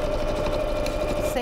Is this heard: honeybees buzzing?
no